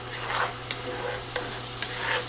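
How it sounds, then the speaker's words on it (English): Steady hissing sizzle of potatoes frying in a hot skillet, with a few light clicks and scrapes of stirring. "I love that sizzle in there."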